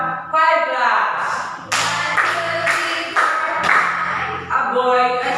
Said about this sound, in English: Give yourself a 5 claps.